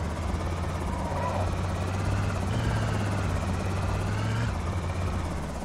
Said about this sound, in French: L'hélicoptère.